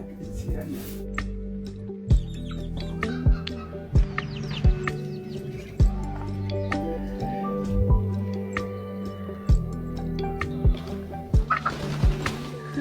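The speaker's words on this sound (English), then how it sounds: "you'll hear it's just like chickens upon chickens upon chickens" Poultry calling in a remote mountain village, with gobbling, turkey-like bursts and clucks recurring every second or two near and far, mixed with other birds and village noise while people talk throughout.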